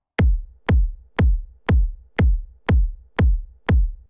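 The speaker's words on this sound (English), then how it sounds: "Our basic kick drum." A basic kick drum for a Brazilian phonk beat thumps eight times in an even, steady rhythm about every half second, each hit punchy and booming with a quick decay, played alone.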